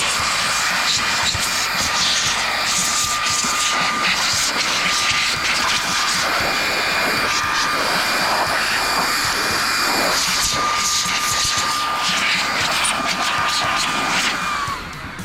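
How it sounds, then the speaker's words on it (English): A Worx Nitro WX099L cordless blower roars loudly and steadily up close as it blasts snow off skis, a sustained high-pitched whooshing whine that holds for the whole stretch before easing off at the end. "I found this Worx tool here. It's like a little blower."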